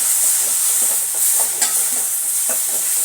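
Kashmiri chilli powder being sautéed in a pan for ivy gourd curry makes a steady, close, loud sizzle, with repeated soft scrapes and stirring knocks throughout and a sharper clatter partway through.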